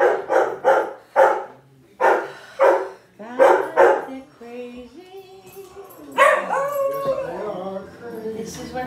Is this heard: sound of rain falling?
no